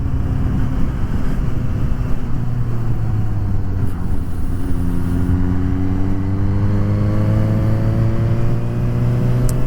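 A car accelerates and drives past while heard from a Suzuki GSX-S750 motorcycle in traffic; its engine note climbs steadily in pitch over a constant loud rush of wind and engine noise.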